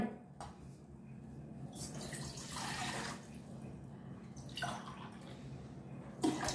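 Water from a glass poured into a cooking pot on a gas stove for tadka masala Maggi noodles, a steady low splashing and trickling with a couple of louder gushes, close up with no talk.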